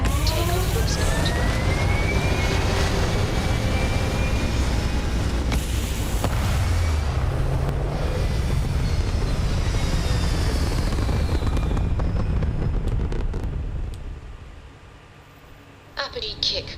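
Spaceship takeoff in Starfield: a loud, sustained rumbling roar with rising whines and sweeping tones that builds and then fades away near the end, with speech over the top.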